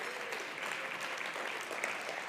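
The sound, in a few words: applause from the audience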